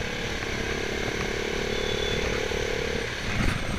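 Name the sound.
KTM Duke 390 motorcycle engine during hard downshift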